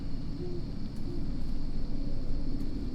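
A low owl hoot rises from the ambient soundscape of the video game Martha Is Dead, a soft repeated call under a steady hum and hiss with no talk.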